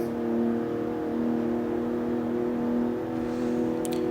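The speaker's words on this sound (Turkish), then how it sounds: "İkinci vitesdeyiz ve 260 ile gidiyoruz" A BMW M46 in the CarX Street racing game pulls hard in second gear with a constant loud engine drone and whine, holding a high steady pitch throughout, no voices.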